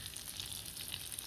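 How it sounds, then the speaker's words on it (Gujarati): Two pomfret fish frying in hot oil in a home kitchen give a continuous, faint, airy crackling sizzle that holds steady throughout with no voices. "2 પાપલેટો ભાઈ તળાય છે"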